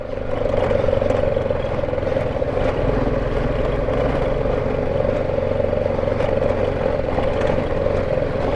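Steady motorbike engine drone and rattling clatter while riding a rough, broken road on high plains in northern Pakistan, loud and continuous throughout with no pauses and no speech.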